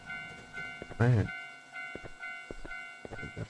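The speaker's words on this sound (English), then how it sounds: "Oh, it's a train." A train passes in a video game, giving a steady rumble with rhythmic clacks and tonal horn-like hums, while someone speaks briefly over it.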